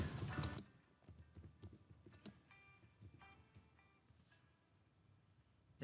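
A computer keyboard is used to type a file name, with scattered light key clicks in short uneven bursts, close and quiet, after a brief louder rustle at the start.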